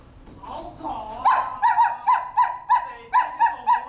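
Dog barking and whimpering during a stage drama performance: about ten sharp, evenly spaced yelps in a quick run, fairly loud and close, after a stretch of murmuring voices.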